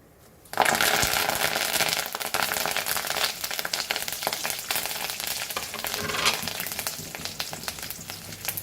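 Asafoetida goes into a tablespoon of hot oil for tomato rasam, and a loud, steady sizzle bursts in after a brief quiet start and crackles on without pause, with faint stirring scrapes and no talking.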